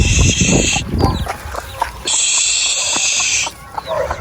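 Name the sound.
chickens clucking while being herded inside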